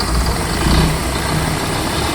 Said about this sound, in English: I should just have to hit the hybrid button and the engine should crank